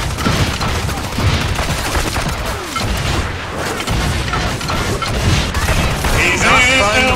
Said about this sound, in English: Oh, I love how fast I can shoot this thing now.